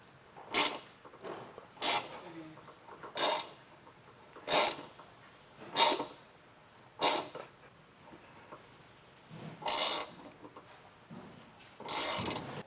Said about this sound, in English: So I'm just going to take our 12mm self-tapper and get all these holes threaded.